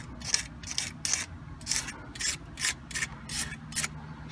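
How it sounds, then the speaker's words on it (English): Razor blade scraping dirt and old gasket material off an aluminum intake surface during an SRT4 starter and intake gasket job, heard as eight or nine short, close, gritty strokes in a steady rhythm with no talking. "I just take my razor blade and scrape your dirt away from the holes"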